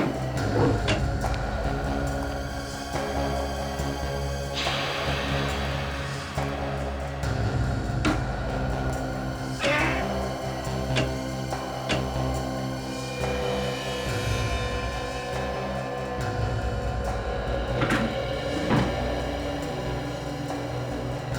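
A wooden cupboard is shifted and opened during a room-by-room house search, giving scraping, knocking and rattling noises over a dense, noisy background, with no voices.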